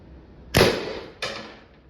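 An Umarex TR50 CO2 air gun fires pink rocket projectiles: two sharp, loud pops roughly two-thirds of a second apart, each with a brief decaying tail, close by and with no talking.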